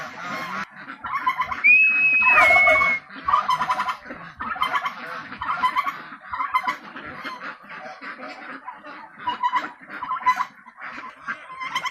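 Pekin ducks and other domestic ducks quacking and honking in a noisy flock, with overlapping calls continuing steadily throughout and one sustained squawk early on.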